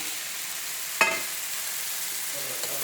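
Pasta dropped into hot oil in a frying pan, a sharp burst of sizzle at the moment it lands, then a faint steady frying hiss that carries on quietly.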